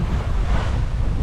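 Waves splash and rush steadily around a sailing yacht making about 7 knots at sea, a loud close wash of water mixed with wind noise.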